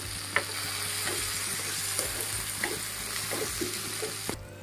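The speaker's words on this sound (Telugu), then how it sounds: "ఇందులోకి ఒక స్పూన్ వరకు అల్లం వెల్లుల్లి పేస్ట్ పచ్చివాసన పోయినంత వరకు వేసుకొని కలుపుకోవాలి" Ginger-garlic paste cooks with tomato and onion in a hot pan, a steady sizzle broken by repeated scraping strokes of a spoon stirring, close and busy, ending abruptly.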